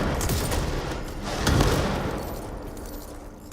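Weapon fire in Control, a modded charged weapon firing: a dense, loud blast of overlapping shots and booms, swelling once midway and then trailing off.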